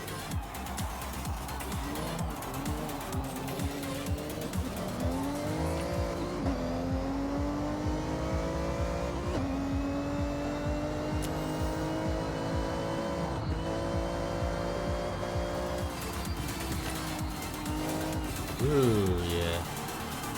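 A car understeers through turns, the engine droning and revving with rising and falling pitch sweeps and some tire squeal as it pushes wide, while someone talks over it.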